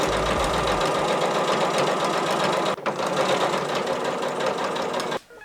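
A sewing machine runs a continuous row of stitching along the edge of dress fabric, a fast, even mechanical whir close by that pauses briefly midway and stops near the end.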